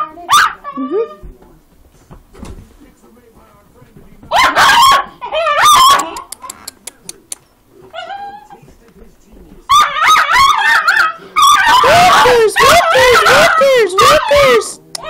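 A puppy yips and barks in bursts, with high whimpers between, while people talk nearby.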